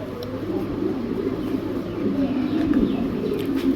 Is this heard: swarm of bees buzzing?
no